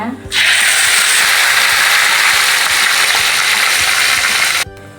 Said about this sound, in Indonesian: Sekarang kita goreng cabenya ya bun